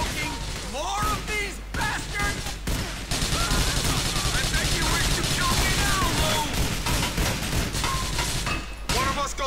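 Dense rapid gunfire and bursts of explosions fill a Grand Theft Auto IV firefight, with loud crackling volleys running almost continuously while someone talks over them.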